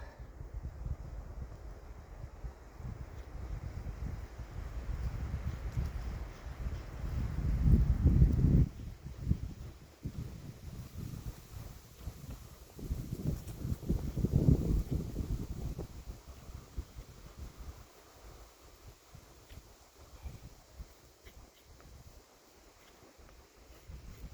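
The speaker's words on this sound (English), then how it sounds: "It's really cold because of the wind" Strong cold winter wind buffeting outdoors, rumbling low and loud in two heavy gusts with a steady rushing wash between them, easing off toward the end.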